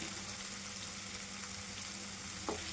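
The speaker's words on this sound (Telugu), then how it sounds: "చూసారు కదండి, మంచి గోల్డెన్ కలర్లో ఫ్రై అవుతుంది" Potato pieces for aloo fry sizzle steadily in hot oil as they turn golden, a continuous close crackling hiss with one brief brighter spatter near the end and no voices.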